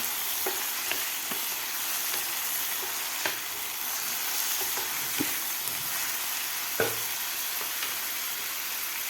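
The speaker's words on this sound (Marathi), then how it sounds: "आता टोमॅटोसुद्धा आपल्याला व्यवस्थित परतून घ्यायचं आहे" Tomatoes sautéing in a pan for a pea and spinach vegetable dish give a steady, close sizzle of frying, broken by occasional sharp clicks and scrapes of stirring.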